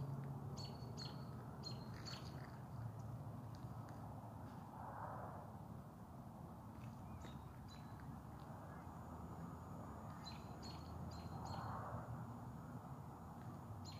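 Birds chirp outdoors in an Edmonton, Alberta neighborhood on a spring evening, short high tweets repeating in small clusters, faint and somewhat distant over a steady low background hum.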